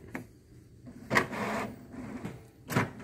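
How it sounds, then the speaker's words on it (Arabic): An HP Deskjet 2130 inkjet printer runs a print job after a paper jam is cleared, making short mechanical bursts of carriage and paper-feed whirring with quiet pauses between them, close to the microphone. "نلاحظ الطابعة راح تطبع بشكل سليم"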